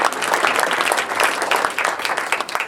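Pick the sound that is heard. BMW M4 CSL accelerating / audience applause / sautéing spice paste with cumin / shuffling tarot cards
audience applause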